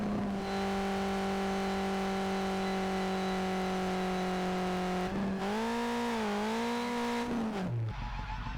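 A car engine in a racing video game holds a steady loud drone, then revs up and down in wavering pitch while drifting before cutting off abruptly.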